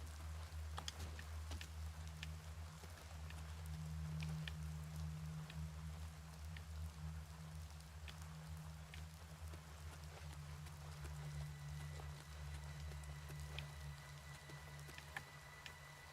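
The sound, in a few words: rain in video game Oblivion Remastered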